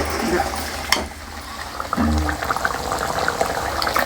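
Chicken curry bubbles in a pot on the stove, a steady close simmering hiss with soft popping and a pour-like gurgle, while someone talks over it.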